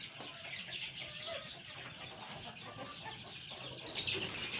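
Chickens clucking and fluttering in a breeding pen as one hen is grabbed from above, steady agitated clucks throughout with a louder flurry near the end.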